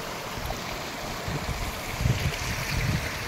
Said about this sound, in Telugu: చూస్తే అక్కడ వాటర్ ఫ్లోటింగ్ అనేది ఎక్కువైపోతుంది కొంచెం ముందుకెళ్ళే కొద్దీ